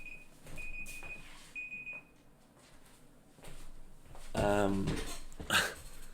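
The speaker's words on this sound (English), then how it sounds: "I'm just gonna turn off my alarm" An electronic alarm gives a few short, high-pitched beeps, fairly quiet, followed by a person's voice and some rustling and handling noises.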